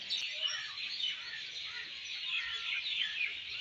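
Birds chirp and twitter in banyan trees at a railway junction, a busy overlapping chorus of bright calls heard from a moderate distance, steady and unbroken with no talking.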